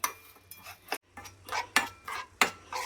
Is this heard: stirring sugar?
yes